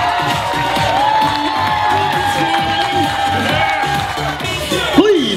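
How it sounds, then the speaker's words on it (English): Wedding guests clapping, cheering and whooping at a reception as the maid of honor is introduced, lively and loud, with excited shouts rising over the applause. "Let's keep the applause going for our beautiful maid of honor"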